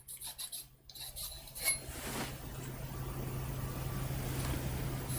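A special flat-toothed Japanese woodblock printmaking saw cutting: a steady, broad rasp that starts after a few faint clinks and grows gradually louder and more even.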